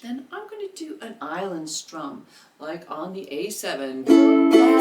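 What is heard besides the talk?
No everyday noises stand out.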